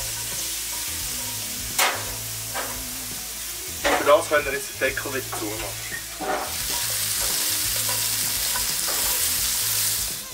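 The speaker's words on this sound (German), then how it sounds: "Jetzt tun wir das Ganze schön anbraten." Carrots and other vegetables searing in a pan for ossobuco on a gas grill in winter, a steady sizzle with scattered stirring clatters while a person talks over it.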